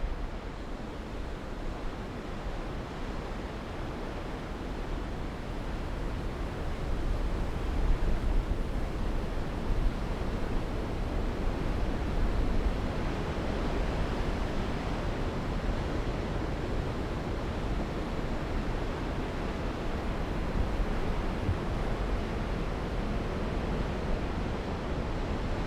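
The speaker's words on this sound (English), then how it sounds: "the mighty Gullfoss waterfalls thunder down" Gullfoss waterfall in Iceland thunders down in a steady, broad roar of rushing water that holds for the whole stretch, no voices over it.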